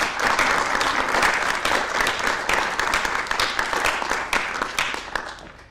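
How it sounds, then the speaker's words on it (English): Warm audience applause at a college-hosted Proposition 33 debate, welcoming a debater to the stage: a dense, sustained wash of many clapping hands that slowly thins toward the end. "let's bring them up with a warm round of applause from our audience"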